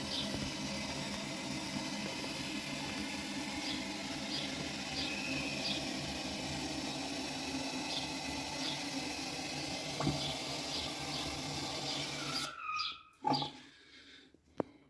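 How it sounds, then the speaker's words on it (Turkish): A toilet cistern refilling with water while its float valve is tested: a continuous steady rush and hiss of filling water that runs for most of the time, then cuts off near the end, leaving a few faint knocks. "Şamandıramız suyu kesiyor mu? Kesmiyor mu? denemesini yapıyoruz şu anda."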